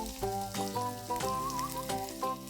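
Boiled, peeled potato pieces fry with cumin in a pan, giving a steady sizzle that sits under a prominent music track for the whole short stretch.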